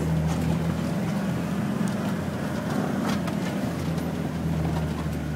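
An off-road vehicle's engine drones under throttle on a Bulgarian trail, a loud, steady low rumble with wind-like noise, sustained throughout with no clear rises or drops in pitch.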